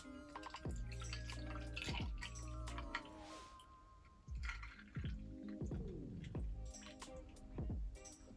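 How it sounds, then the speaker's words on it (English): Cranberry and orange juice are poured into a glass at a bar, with gurgling, splashing liquid sounds and soft drips, close but fairly quiet, mixed with light clinks and faint background noise. "So now we're gonna fill the rest of the way up with equal parts of cranberry juice and orange juice."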